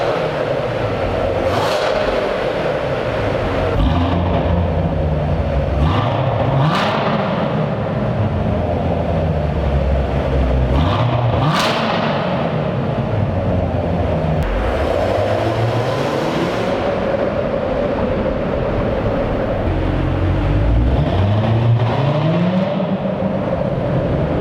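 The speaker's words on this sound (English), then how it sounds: "I'm going to include some exhaust clips of what stealth and track sound like, so you guys can like hear the difference with those two." Corvette Z06 exhaust heard in stealth and track modes, loud continuous engine drone with repeated rising and falling revs as the car accelerates and shifts, close and unbroken by talk.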